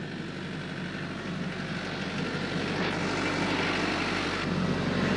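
A tractor engine idles steadily and then is throttled up to about 1,500 RPM, and its droning roar grows louder and stronger toward the end, running alone without speech.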